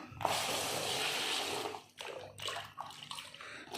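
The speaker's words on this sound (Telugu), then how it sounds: "చూడండి వాటర్ తెచ్చినాను ఇంకా దీంట్లో వాటరు వేద్దాము" Water gushes steadily into a tub for about two seconds, then continues in shorter splashing pours, close and fairly loud.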